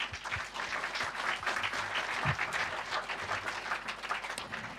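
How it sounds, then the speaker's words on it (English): At a hackathon awards ceremony, an audience breaks into steady, fairly distant applause, a continuous wash of many hands clapping at even loudness for several seconds with no talking over it. "So big round of applause."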